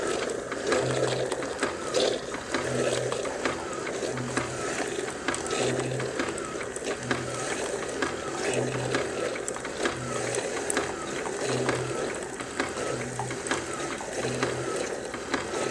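A Keurig Vue coffee machine brewing, giving a steady mechanical whir and hum with a soft pulsing pump beat that repeats about every second, moderately loud and continuous throughout.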